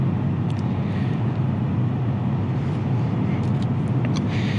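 Inside a moving 2020 Toyota Land Cruiser, a steady roar of wind and road noise comes from the roof rack, continuous and even without any break.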